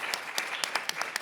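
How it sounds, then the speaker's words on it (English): A small audience at a symposium panel gives brief, scattered applause, with a handful of distinct claps at an uneven rhythm over a steady hiss of room noise. The applause is moderately loud and lasts only a moment. "And it really deserves an applause at this point."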